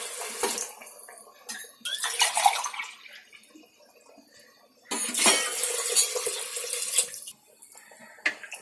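Two tumblers of water poured into rice in a pot for mushroom biryani, heard as two bursts of splashing, gushing water separated by a short quiet pause, close and fairly loud.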